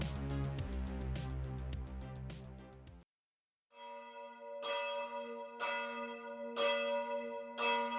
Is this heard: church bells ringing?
yes